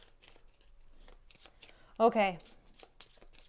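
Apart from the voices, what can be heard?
shuffling a deck of cards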